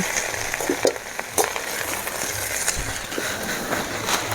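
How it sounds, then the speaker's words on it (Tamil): Drumstick leaves are stirred and fried in a pan. A steady close sizzle runs throughout, broken by light scraping and clicking stir strokes. "எல்லா இடமும் நல்லா கிளறி விடணும் முருங்கீரை நல்லா வதங்குற அளவுக்கு"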